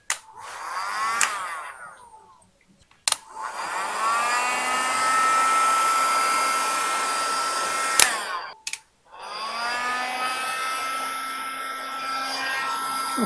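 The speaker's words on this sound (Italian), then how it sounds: "Adesso per il phon." A steady blowing whir of a hot air gun runs in long stretches, stopping and restarting with sharp clicks between bursts.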